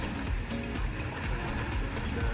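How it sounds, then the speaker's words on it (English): Ocean waves washing up on a beach at night, a steady rushing surf with soft rhythmic swells, moderately distant and without voices. "now there's just like the waves"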